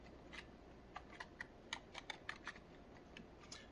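Fingers type on a computer keyboard while entering a search, giving quiet, irregular bursts of light key clicks with short pauses between them.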